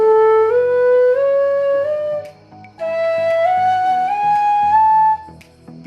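A side flute plays an ascending Sa Re Ga Ma scale in the middle octave, with clear, sustained stepwise notes in two rising runs separated by a short breath pause, close and loud with no talking.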